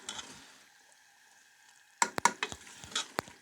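Egg and potato curry being stirred in a pan, a quiet faint sizzle followed by several sharp scraping and clanking strokes of a spoon against the pan.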